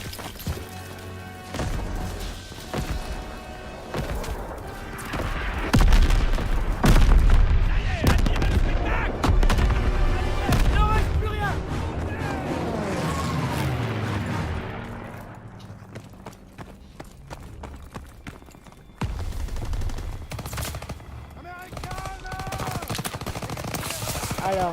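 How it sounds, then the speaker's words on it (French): A Call of Duty WWII battle scene builds into a heavy artillery barrage with dense gunfire, booming blasts and rapid rifle and machine gun bursts. Shouted voices come and go, and the fire thins out toward the end. "Signale l'assaut de l'artillerie."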